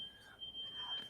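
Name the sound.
smoke detector alarm beeping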